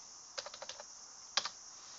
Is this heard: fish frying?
no